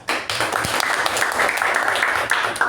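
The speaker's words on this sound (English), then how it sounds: "give a huge round of applause to our VP Apurva" Club members applaud their vice president at a meeting, a dense wash of clapping that rises abruptly and holds steady and fairly loud, with a few voices faintly mixed in.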